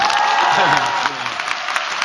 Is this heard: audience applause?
yes